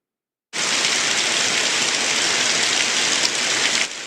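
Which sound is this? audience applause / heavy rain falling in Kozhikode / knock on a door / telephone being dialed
heavy rain falling in Kozhikode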